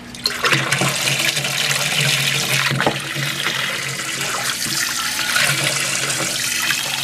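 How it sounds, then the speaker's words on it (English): A Python tank cleaner refills a fish aquarium, producing a loud, steady rush of running water with bubbling and splashing that continues unbroken for several seconds, with no speech over it. "Now there it is, it's filling up with the water."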